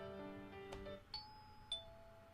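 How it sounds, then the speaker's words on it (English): Doorbell chimes in the Nurse Love Addiction video game: two clear ringing tones in quick succession, each cut off and decaying, after a brief fading musical background. "the doorbell rings."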